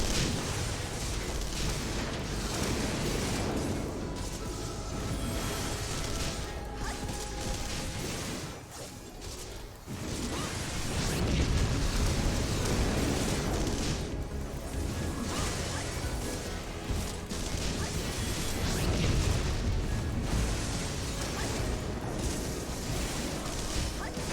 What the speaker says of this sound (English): These guys have a lot of explosions, and they're very loud even for me.